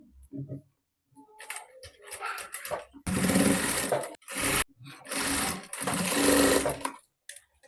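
A sewing machine stitches a blouse in close, loud whirring runs of a second or two each, separated by pauses, with quieter handling noises before the first run.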